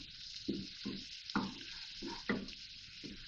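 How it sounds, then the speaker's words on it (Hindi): Garlic and ginger sizzle steadily in hot oil for sarson ka saag, a continuous close frying hiss broken by a few soft rhythmic stirring knocks. "1 टेबल स्पून लहसुन है और 1 टेबल स्पून अदरक है। थोड़ा सा फ्राई करेंगे इसको"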